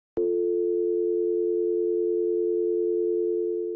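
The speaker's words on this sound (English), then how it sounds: "This is when you just insert dial tone audio." A telephone dial tone starts abruptly and holds perfectly steady and loud, a pure unbroken hum that fades slightly at the end, with nothing else around it.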